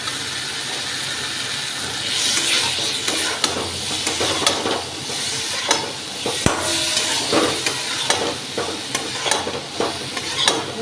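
Ridge gourd seasoned with turmeric, Kashmiri chili powder and a pinch of sugar sizzles steadily in a pan, with a scraping spoon stirring it through in repeated, uneven strokes close by. No one talks.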